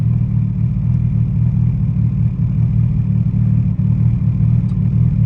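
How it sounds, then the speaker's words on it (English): A car's engine drones steadily from inside the cabin on a first short drive around the block, a loud continuous low rumble with a mid-pitched engine hum and no talking. "I'm just driving around the block just to get a feel for it."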